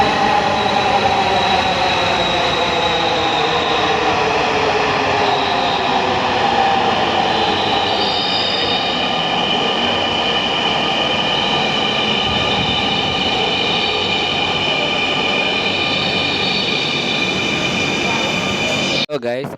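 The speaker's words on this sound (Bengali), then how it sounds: "আমাদের ট্রেনটা চলে আসার পর ট্রেনের ভিতরে ঢুকে পড়লাম।" A Dhaka metro rail train pulls into a station bound for Mirpur 10, with a loud, steady rumble and thin wheel squeal running throughout, close by and with no voices.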